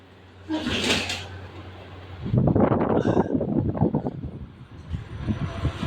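An electric fan with a swing function blows air straight at the microphone, making a gusty, rumbling buffet that surges in and out after a brief knock near the start.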